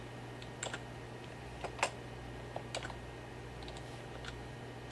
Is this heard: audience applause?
no